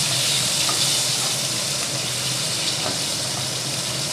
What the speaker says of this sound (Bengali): এই যে রান্না হতে থাকলে এই যে আওয়াজ, রান্নার শব্দ